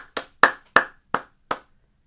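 Five separate hand claps, sharp and evenly spaced, ring out alone in a quiet room, forming a short, sparse round of applause from a single person rather than a crowd.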